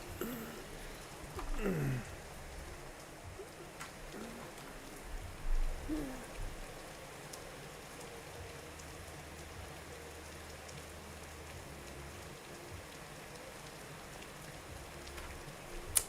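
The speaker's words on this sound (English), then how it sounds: "It's really raining now." Steady rain falls outdoors in the South USA, a faint even hiss of drops on surfaces that continues throughout, with a couple of low hoot-like sounds early on.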